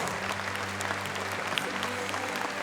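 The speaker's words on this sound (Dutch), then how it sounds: "Nog één keer een geweldig applaus." Steady, dense applause from a large crowd at an awards presentation fills the whole stretch, even and continuous without pauses.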